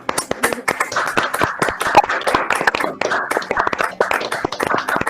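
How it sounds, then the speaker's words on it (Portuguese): Online applause over open microphones at a poetry evening tribute to Joemir Silva, a dense patter of many hands clapping unevenly and steadily throughout, with faint chatter mixed in. "dar uma salva de palmas para o Joemir"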